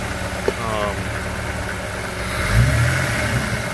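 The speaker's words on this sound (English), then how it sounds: "I'm going to keep the car just running for a little bit." A 2004 Jeep Grand Cherokee WJ, sprayed with carb and choke cleaner while it stalls at idle, runs at a steady idle with a low, even engine hum and a brief rise in revs partway through.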